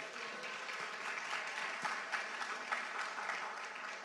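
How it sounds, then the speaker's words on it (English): Steady applause from an audience at a pitch competition, a dense, even wash of clapping heard from a distance and fairly faint. "Give you all yourself another round of applause for being here today."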